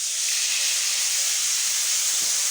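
Chopped tomato goes into a hot pan of mutton chukka, giving a strong, steady hiss of sizzling oil and steam that holds evenly throughout with no voices.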